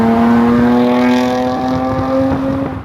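A supercharged V6 in a Jaguar F-Type sings a loud, steady engine note close up, its tone climbing slightly before the sound cuts off at the end.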